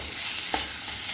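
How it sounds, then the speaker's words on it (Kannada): Onion, chilli and ginger-garlic paste frying in a pan and being stirred, a steady close sizzle with one brief scrape of the spoon. "ಇದನ್ನು ಸ್ವಲ್ಪ ಮಿಕ್ಸ್ ಮಾಡುವ."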